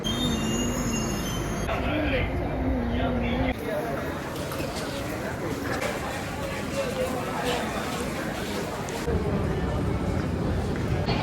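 A metro train rolls into a station platform with loud, continuous rumbling and brief high wheel squeals near the start, while people talk nearby.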